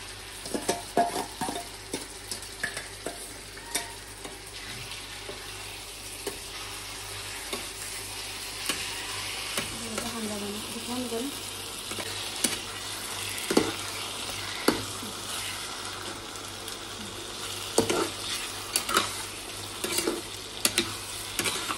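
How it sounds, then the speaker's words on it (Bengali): Food frying in a pan for a mahaprabhu bhog dish, a steady broad sizzle running throughout with frequent scraping stirs and occasional metallic clinks of a spatula against the pan, close and fairly loud, with no voices. "এরপরে হালকা একটু এটা ফ্রাই করবো লাল করে"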